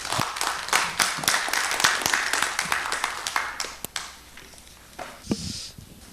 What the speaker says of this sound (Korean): 여러분 박수로 맞이해 주시기 바랍니다